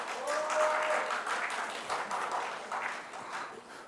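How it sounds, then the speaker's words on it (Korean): A church congregation breaks into sustained applause at a Sunday worship service, a dense wash of clapping that swells early then slowly tapers, heard from a moderate distance. "예, 우리 박수로 환영하겠습니다."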